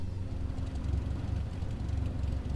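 A Cessna 172 piston engine idles on the runway in Microsoft Flight Simulator 2020, a steady low rumbling drone with a faint rhythmic pulse, close and continuous, no talking.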